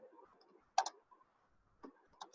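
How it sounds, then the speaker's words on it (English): Keystrokes on a computer keyboard while a Java program is entered in the BlueJ editor, heard as a few sharp, faint clicks spaced apart in an otherwise quiet room. "And I'm typing over here"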